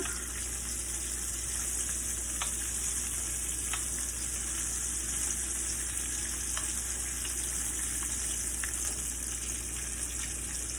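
Crispitos fry in a pan with a continuous close sizzle of hot oil, while a few faint clicks and taps from flipping them break through now and then.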